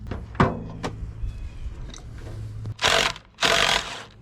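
A power tool removes a bolt on a Nissan 300ZX during fender work, with short ratcheting buzzes early and two loud, longer whirring bursts near the end, close and with no talking.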